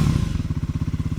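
A Triumph Scrambler 400 motorcycle engine with ride-by-wire throttle, revving in quick, rhythmic pulses with a deep, throbbing low-end chug, close and steady with no voices.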